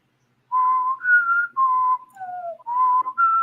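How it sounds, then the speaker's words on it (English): A person whistles a short melodic tune, clear and close, with several sustained notes shifting up and down in pitch. "I thought you were going to whistle"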